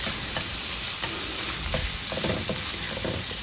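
Minced pork sizzling and frying in a pan for home-cooked sisig, a dense continuous crackle with occasional scraping stirs of a utensil, loud and close.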